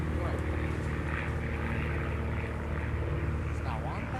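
A propeller airplane flies over a university campus, its steady engine drone continuous and fairly loud throughout, with faint background voices.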